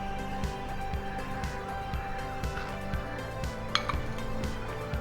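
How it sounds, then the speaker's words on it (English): Spatula folding flour into a boozy mawa cake batter in a bowl, soft scraping and knocking strokes at a steady rhythm with an occasional clink, over a low steady hum. "Just incorporate it really well with the spatula."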